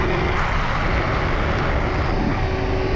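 A Losi Promoto-SM RC motorcycle with lowered forks holding a wheelie in a parking lot, heard as a loud, steady, high electric motor whine with broad rushing noise throughout and no talking.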